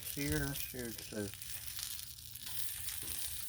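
Frozen firecracker chicken dumplings sear on a Blackstone griddle with a soft, steady sizzle. A voice speaks over it at the start, and the frying hiss carries on faintly beneath.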